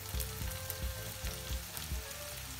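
Peppers go into broccoli frying in a pan, giving a loud, even sizzle with soft rhythmic stirring thumps repeating about every half second.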